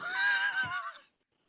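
A single horse whinny used as a sound effect on a wrestling talk show: a loud, close, shrill neigh that wavers for about a second, then cuts to silence.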